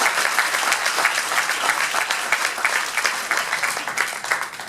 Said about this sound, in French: Je pense qu'on peut l'applaudir même si il n'est pas là.